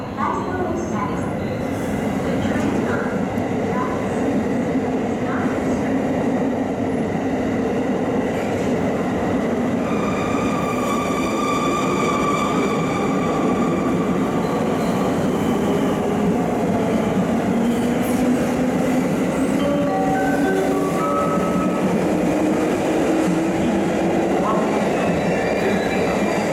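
A JR West 221 series unrenovated local train bound for Yasu departs Himeji Station, rumbling steadily with a continuous low roar and faint squeals of wheels on rails, sustained throughout, with a faint station announcement voice under the noise.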